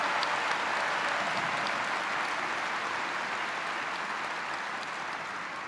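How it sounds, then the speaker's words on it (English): Sustained applause from a large audience at a high school commencement ceremony honoring teachers and counselors, a steady dense wash of clapping that holds evenly throughout at moderate volume. "Let's all give a big round of applause for our teachers, counselors, and advisory teachers."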